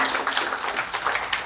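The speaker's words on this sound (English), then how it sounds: "So I want us to clap for UCC" A brief burst of audience clapping at a film talk, many hands beating together in a dense, even patter from start to finish.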